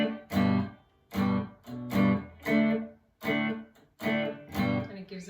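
Palm-muted chord strumming on an acoustic guitar for a song, in a steady pattern of short, damped, chunky strums, each bursting and then quickly cut off, close and clear with no talking.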